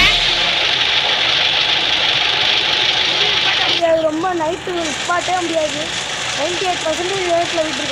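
A vehicle's engine drones steadily while it is being driven fast in a video game, with a voice talking over the engine noise partway through.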